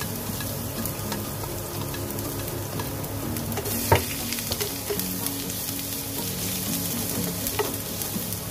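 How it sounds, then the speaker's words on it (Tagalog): Ginger frying in cooking oil while fish innards adobo is being prepared, giving a steady close sizzle with small pops and a brief stir clatter, with no talking. "Lagay na ang luya."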